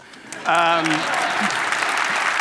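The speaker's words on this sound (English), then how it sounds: "You can clap if you want." Audience applause at a debate on stopping Brexit, rising suddenly into a broad, steady clatter of many hands, with a brief voice over the start of the clapping.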